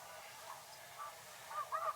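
Canada geese honking during a spring snow goose hunt in Québec, with faint, brief calls rising toward the end over quiet outdoor background noise.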